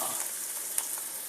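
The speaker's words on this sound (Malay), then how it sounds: "Kita masukkan bawang putih." Garlic dropped into very hot oil in a wok for chicken fried rice gives a brief, faint, even sizzle with one small tick partway through and no voices.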